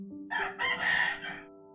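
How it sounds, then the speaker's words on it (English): A rooster outdoors gives one full cock-a-doodle-doo, loud and clear with a rising and falling call, heard alone. "Apologize for the rooster outside."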